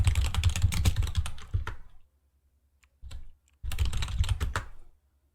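Rapid clattering keystrokes on a computer keyboard come in two dense bursts, close and clear, separated by a near-silent gap broken only by a brief cluster of taps.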